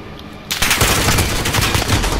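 Rapid automatic gunfire in the video game Call of Duty: Modern Warfare during a team deathmatch, a loud dense burst of shots that starts abruptly after a quiet half second and continues steadily to the end.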